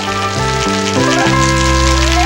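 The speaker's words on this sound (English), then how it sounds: "Uh-oh, it's starting to rain." Cartoon sound effect of rain starting to fall, a steady patter of drops on a surface running under a melodic musical score.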